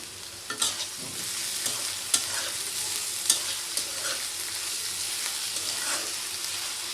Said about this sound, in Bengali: খারকোল পাতা দিয়ে আমি খুব ভালোভাবে মরিচ পেঁয়াজের সাথে মিশিয়ে ভেজে নিচ্ছি।